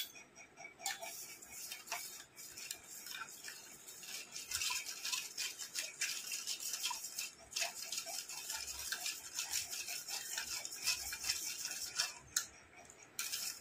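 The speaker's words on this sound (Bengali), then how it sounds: "এটাকে এবার আমি একটু গুলিয়ে নেব।" Watermelon ice cream mixture is stirred in a bowl, making a quick, continuous clicking and scraping of a utensil against the container, close and fairly quiet, with brief pauses and no voices.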